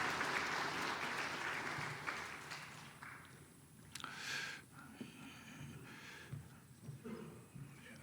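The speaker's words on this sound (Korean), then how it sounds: "여러분 박수로 이제 응원해 주시겠습니다" Applause from a church congregation during a Sunday worship service, a broad wash of clapping that starts loud and fades after a few seconds, followed by scattered shuffling and light noises.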